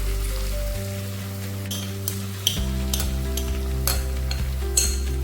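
Potatoes for Kathiyawadi-style stuffed potato curry fry in oil as extra masala is stirred in, giving a steady close sizzle with scraping stir strokes and a few sharp clinks of the spoon against the pan.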